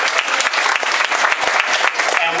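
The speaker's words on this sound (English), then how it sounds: "We set national records with our swimmers this year. Let's give them a round of applause." A school audience breaks into dense, loud applause honoring record-setting swimmers, steady clapping filling the whole moment with a few sharper claps standing out near the front.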